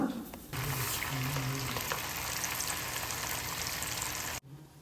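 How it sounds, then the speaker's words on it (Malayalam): Beef pieces deep frying in oil, a dense, close hiss of bubbling sizzle that starts with a sudden surge and runs steadily for about four seconds before stopping sharply. "മൂന്നാമത്തെ ഞാൻ വറുക്കാൻ ഇട്ടിട്ടുണ്ട്."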